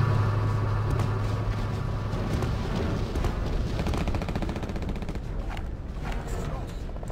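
Rapid machine gun fire from Return to Castle Wolfenstein, a loud continuous rattling burst with dense, fast repeating shots that carry on steadily for several seconds amid other battle noise.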